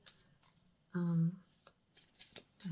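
Unusually wide playing cards are shuffled in short riffling bursts, mixed in with a person talking nearby.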